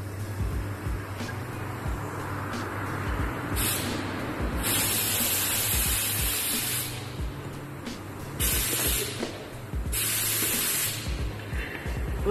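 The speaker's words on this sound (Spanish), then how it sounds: "Como baja el pistón y va rompiendo a su paso, en este caso el cartón." A pneumatic piston drives down and crushes cardboard, giving repeated bursts of loud spraying air hiss over a steady low mechanical hum, with several separate releases across the clip.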